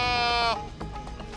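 A goat with an infected wound at a vet clinic lets out one loud, wavering bleat close by, then quieter shuffling and faint background noise follow.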